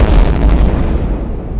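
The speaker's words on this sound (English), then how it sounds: "Behind them, the propane tank erupted in a ball of blue-white flame." A propane tank explodes in a loud, deep boom with a rumbling burst that slowly fades over a second and a half, alone with no voices.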